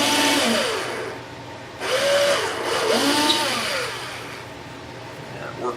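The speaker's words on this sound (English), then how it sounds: "Drilling nice and slow because I don't want to bust out the other side." Slow drilling during a restoration, a power drill whirring in two bursts at a moderate, even pace, close and fairly loud, with a brief quieter gap between runs and no talk.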